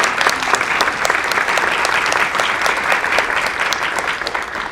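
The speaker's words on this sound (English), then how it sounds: "I wanted to take a moment to just give you a round of applause." An audience at a Latina/o education summit gives a round of applause, with loud, sustained, even clapping from a large crowd throughout.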